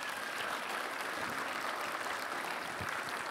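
A church congregation applauding during an Easter service: steady, even clapping, fairly soft and distant, lasting a few seconds with no voices over it.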